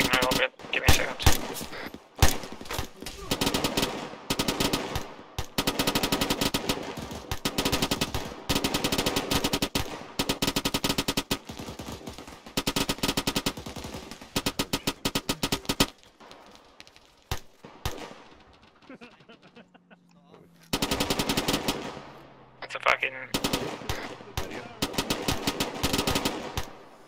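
Machine gun fire from a tower during a hospital defense, loud close bursts and rapid strings of shots broken by brief pauses, with a quieter lull near the end before firing resumes.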